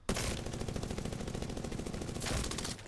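Rapid automatic gunfire in a first-person shooter video game, a steady burst of closely spaced shots lasting nearly three seconds, loud and unbroken, with no voices.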